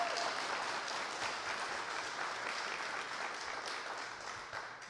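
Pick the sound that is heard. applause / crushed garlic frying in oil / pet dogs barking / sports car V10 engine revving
applause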